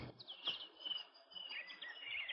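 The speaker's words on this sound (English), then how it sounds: "Listen to the sound of the birds and the sound of the breeze." Birds sing in a quiet meadow: soft, faint chirps and tweets come in short bursts against near silence.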